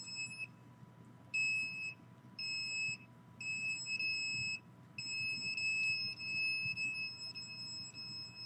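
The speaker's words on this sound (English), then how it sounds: "Notice how bright that alarm is." An electronic alarm sounds indoors, a piercing high-pitched tone that beeps in repeated bursts, some short and some longer, steady in level over a low background hum.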